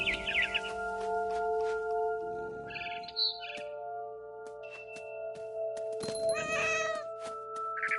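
A cat meows and caterwauls in short repeated cries, close and fairly loud, with bird chirps and tweets from a barn swallow near a nest breaking in between.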